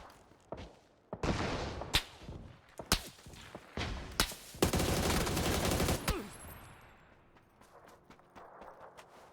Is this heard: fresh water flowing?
no